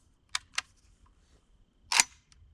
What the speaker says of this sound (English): I can really feel the action working.